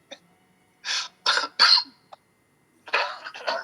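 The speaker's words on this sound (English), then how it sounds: "getting over a cough" A series of harsh coughs, close and loud: three quick ones, a short pause, then two more.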